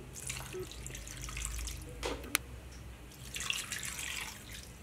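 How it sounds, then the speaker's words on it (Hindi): Water runs steadily into a pan of mutton for karahi with a faint splashing hiss, punctuated by a single sharp clink midway; no voices. "अब हम इसमें 2 कप पानी ऐड कर देंगे।"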